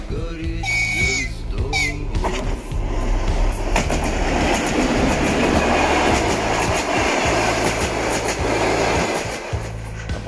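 A train rolls past on a tundra railway line near Vorkuta, loud and close, with a steady rumbling drone, rhythmic wheel clatter over rail joints and a few short whistle-like tones early on.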